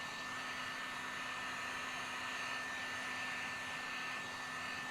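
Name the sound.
heat gun shrinking window tint film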